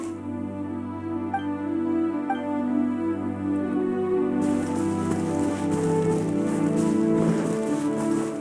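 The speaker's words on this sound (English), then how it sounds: "Taking a stroll in the middle of a downpour certainly rouses the spirit." Steady rain pours down in a continuous hiss under a low, sustained musical drone in Genshin Impact, the downpour growing brighter and denser partway through.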